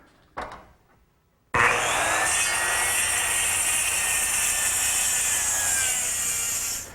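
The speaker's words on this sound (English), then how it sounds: "I'm simply going to use a circular saw to trim it off." Circular saw trimming an oak table top to length along a clamped straight edge: a short knock, a pause, then the saw bites in with a loud, steady high whine that cuts off just before the end.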